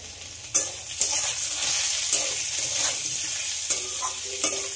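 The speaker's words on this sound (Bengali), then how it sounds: "পেঁয়াজটা আলুর সঙ্গে একটু লাল লাল করে ভেজে নিতে হবে।" Potatoes and chopped onion fry in hot oil in a pan, a steady close sizzle broken by several sharp scrapes and clatters of a spatula stirring, with no voices.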